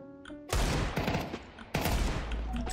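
Gunfire in the video game Counter-Strike 2: two loud bursts of rapid shots, each opening with a sharp crack and trailing off in dense rattling, following a brief tonal game sound at the start.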